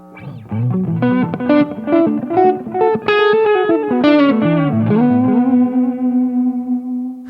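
Electric guitar through a Line 6 Helix playing a melodic phrase drenched in delay and reverb, notes echoing and trailing off into a sustained, shimmering final chord.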